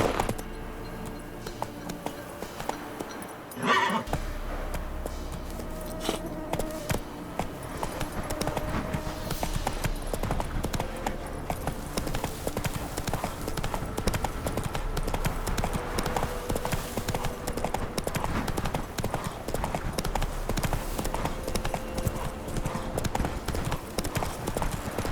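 Roach the horse trots steadily in The Witcher 3, a continuous close clip-clop of hooves with a brief whinny near the start, all under a low ambient game soundscape.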